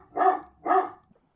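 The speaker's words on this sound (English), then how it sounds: "He's going to start barking again." A dog gives two close, sharp barks in quick succession, evenly spaced, then silence.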